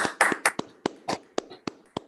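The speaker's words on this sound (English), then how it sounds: "let's have a round of applause for yourselves, for everyone, this wonderful group of people" Scattered hand claps from a small group at a live art event, sharp separate claps at an uneven rhythm rather than a full ovation, close and fairly loud with no talk.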